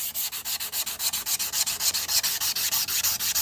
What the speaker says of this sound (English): I'm using a sanding block, that way it's nice and square and flat,